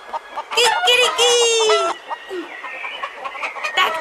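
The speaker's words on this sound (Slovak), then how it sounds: "Takto zobudza kohút celú farmu." A red rooster crows on a farm, a loud, close, drawn-out call with several harmonic bursts, followed by softer clucking and farmyard chatter.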